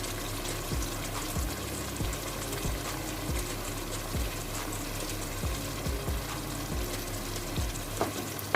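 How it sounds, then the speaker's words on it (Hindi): Tomatoes, garlic and green chillies fry in a pan with a steady soft sizzle, broken by regular scraping stirs of a utensil, close and fairly quiet with no talk. "और हम इसको अच्छे से भून लेते हैं"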